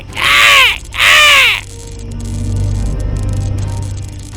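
A cartoon crow in an animated Bengali fairy tale gives two loud, harsh caws in quick succession, then a quiet background hum remains.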